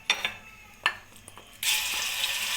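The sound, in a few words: oil heating and frying in a karahi for chicken tikka gravy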